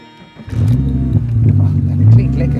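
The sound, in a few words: Donkervoort D8 GTO five-cylinder engine revving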